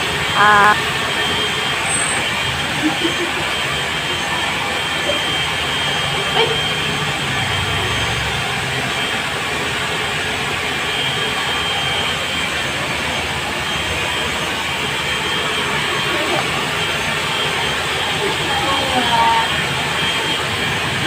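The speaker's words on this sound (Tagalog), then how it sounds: "mag-blower na tayo" A loud, continuous high-pitched blower roars steadily throughout, with faint voices now and then under the whoosh.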